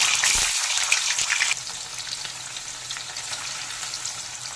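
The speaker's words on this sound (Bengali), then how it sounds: "তেল গরম হয়ে গেছে, পনিরগুলোকে দিয়ে ভেজে তুলে নেব।" Paneer pieces frying in hot refined oil in a kadai, a loud bright sizzle at first that settles into a softer, steady crackle, close by with no talk.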